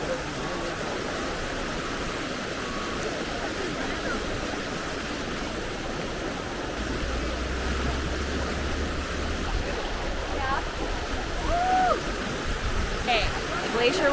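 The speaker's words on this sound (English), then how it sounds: "we're stopping at a river that has glacier water" A glacier-fed river in New Zealand flows with a steady, close, broadband rush of water that holds constant throughout, while voices talk over it.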